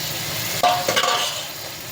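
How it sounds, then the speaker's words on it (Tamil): Grated beetroot being sautéed for beetroot poriyal in a pan, with a soft continuous sizzle and a few scraping stirs of a spoon, close up and without talk. "நல்லா வதக்கி விட்டு ஒரு 10 மினிட்ஸ் மீடியமில் வச்சுட்டு நல்லா வதங்கட்டும்"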